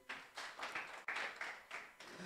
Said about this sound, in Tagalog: Isa nga pong malakas sa palakpak para po sa Lord